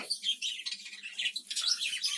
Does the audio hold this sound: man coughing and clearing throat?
no